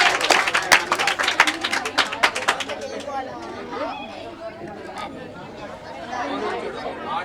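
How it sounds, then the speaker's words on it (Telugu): A school audience claps for a student speaker, with a few seconds of brisk, fairly close applause that fades into crowd chatter and background voices. "వెంకట్ రోహిత్ కి గట్టిగా క్లాప్స్ కొట్టండి."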